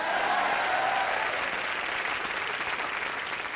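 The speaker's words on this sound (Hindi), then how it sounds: "हाँ क्या, ताली मारो।" A studio audience at a live comedy TV show breaks into sustained applause, a dense wash of clapping that stays loud and fades slightly over a few seconds.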